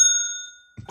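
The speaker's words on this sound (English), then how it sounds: "He just wants to ring his bell." A bell rung once gives a single bright, clear ding that rings out and slowly fades, followed by a brief soft low sound near the end.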